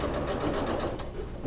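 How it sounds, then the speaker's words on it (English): A sewing machine top stitches along the edge of a beach bag with a regular presser foot and centered needle, running at a steady close, continuous whir for the whole stretch. "I'm just going to top stitch along the edge here"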